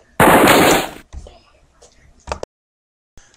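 A short burst of rapid gunfire inside a bar, loud and close, followed by faint scattered sounds and a sharp pop.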